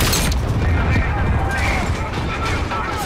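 A bomb explosion in the video game Call of Duty: Modern Warfare, a dense rumbling blast filling the whole stretch with sustained low roar and debris noise, loud and close, with voices briefly under it.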